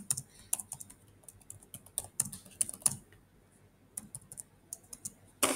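Fingers tap on a computer keyboard in quick irregular bursts of sharp clicks, close and fairly quiet, with short pauses between runs of keystrokes and no talking.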